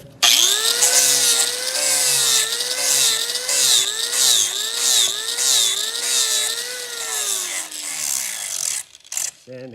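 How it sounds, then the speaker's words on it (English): Sanding a new wooden axe handle by hand, a close, steady rasping rub repeated in rhythmic strokes for several seconds before stopping. "Sanding it down"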